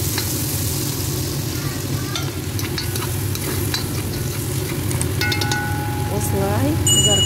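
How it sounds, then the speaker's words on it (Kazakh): Onions and meat frying with tomato paste in a pot, a continuous loud sizzle with occasional scraping stirs, heard close up and alone without speech. "Осылай қызарғанша, әдемі пиязымыз сарғайып қызарғанша қуырып аламыз."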